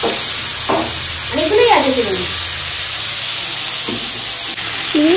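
Medium-sized prawns sizzle loudly in a hot pan for a mustard paste curry, a constant close hiss with a few clinks, while someone talks over it.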